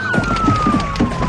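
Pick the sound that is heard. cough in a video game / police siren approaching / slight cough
police siren approaching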